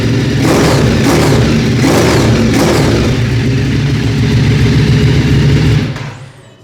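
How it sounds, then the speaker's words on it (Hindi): Ducati twin-cylinder motorcycle with a weak battery, started up and revved in a showroom, loud and close with a deep throbbing idle and repeated throttle blips, then cut off abruptly near the end. "और डुकाटी का जो साउंड है उसका एक अपना ही वो मज़ा है। ड्यूअल सिलेंडर होता है"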